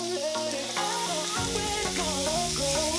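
Flank steak searing in a hot cast iron skillet, a dense, constant sizzle heard up close, with other tonal sounds layered over it.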